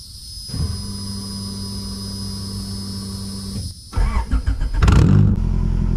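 A car engine with a freshly recharged, previously dead battery idles steadily, then cranks, catches and revs up hard near the end, growling loud and close with no talk.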